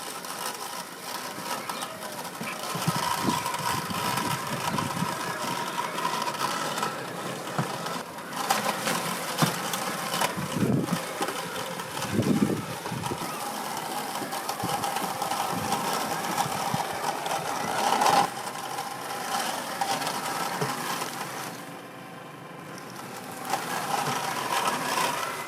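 A Hookii Neomow X robotic lawn mower, steered by hand and trimming a lawn edge at 40 mm cutting height, gives a fairly quiet, continuous motor hum with occasional louder swells and outdoor background.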